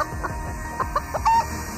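A rooster held at a police station in Ghotki clucks in a quick series of short, close calls, with a brief crow-like rise near the end, and no one talking.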